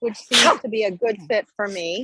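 A sharp sneeze bursts out between bits of a person's speech, close and loud against the surrounding talk.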